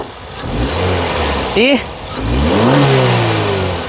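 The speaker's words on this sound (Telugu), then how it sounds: "ఇంజన్ యొక్క నాయిస్ పర్ఫెక్ట్గా అయితే ఉంది రేజ్ అయ్యి ఒకసారి" A 2011 Maruti Suzuki SX4 ZXi car engine runs close by, revving up with a rising pitch, with brief voices partly over the engine noise.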